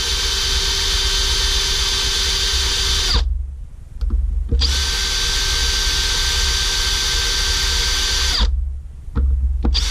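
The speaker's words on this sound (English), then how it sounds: "we can just use an M8 drill" A power drill with an M8 bit runs loud and close in two long, steady bursts while making a busbar, with a short pause and a few faint clicks between them.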